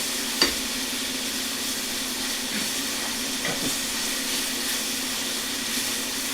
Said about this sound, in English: we want to go ahead and saute this